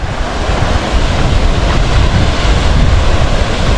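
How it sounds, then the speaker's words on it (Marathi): The Kaldari waterfall near Purandar, Pune, roars steadily nearby, a dense, continuous rush of water falling from a height, with no voices. "इथं आल्यानंतर खूप सुंदर असा धबधबा आहे"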